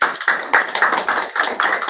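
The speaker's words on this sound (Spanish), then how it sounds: "Los aplaudimos." A group applauds students in a hybrid university class, a short burst of steady close clapping with a regular, slightly uneven rhythm and no talk.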